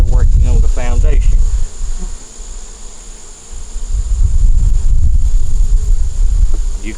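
Calm honeybees around a growing hive give a continuous close buzzing drone that swells and dips, with a voice briefly heard at the start.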